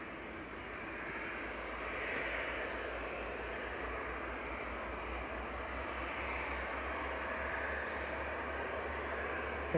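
A Gulf Air Boeing 787 starts its engines, heard from an airport viewing spot as a steady, broad roaring whine that holds at an even level with no talking.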